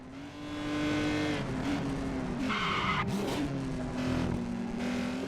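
A race car in the PC racing game GRiD howls at high revs with a steady engine drone, broken by shifting pitch and bursts of tire skidding and squeal, loud and close throughout.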